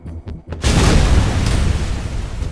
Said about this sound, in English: That was good with those grenades.